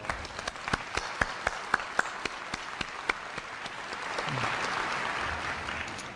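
Sustained applause from a crowd at a Korea University freshman entrance ceremony for families and parents, with a few loud nearby claps standing out early before the clapping thickens into a steady roar.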